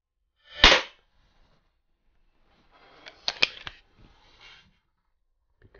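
A Stoeger XP4 single-stroke pneumatic .177 pellet pistol fires with one sharp, loud crack, followed after a pause by a cluster of quieter clicks and clacks of handling and cocking, close by with no talk.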